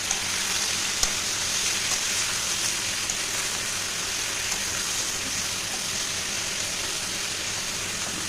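Potatoes and eggplant frying in oil in a pan, a continuous dense crackling sizzle that stays close and even throughout, like steady rain, with no talking.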